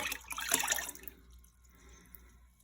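A brief splash of water running through a beaker to rinse out leftover yeast, a short burst of pouring and swishing that quickly fades to faint drips.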